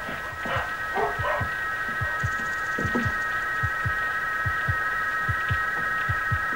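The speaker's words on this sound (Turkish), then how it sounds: "Köpekler nasıl havlıyor?" Dogs barking outdoors in the rain in a Turkish film scene, a run of short, repeated barks at a steady pace over constant rain hiss and a hum, with no talk.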